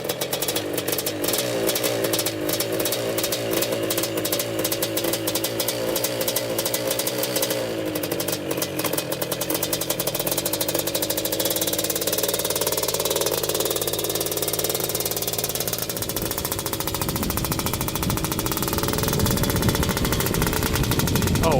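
A two-stroke 250cc quad engine being ridden, loud and close, with a harsh rattling buzz that rises and falls as it revs continuously through the ride, the tone shifting as speed changes.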